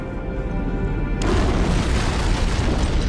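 A powerful antimatter charge detonates aboard a starship in Halo CE, a sudden deep boom that breaks over a steady engine hum and leaves a loud, rumbling roar filling the space.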